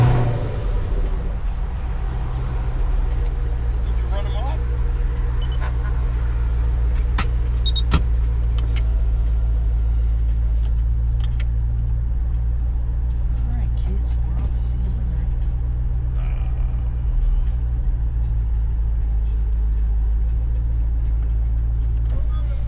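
A 2007 Shelby GT500 SVT Mustang (S197) rumbles steadily at idle in a car show parking area, loud and close, its deep drone continuing throughout with voices and background music over it.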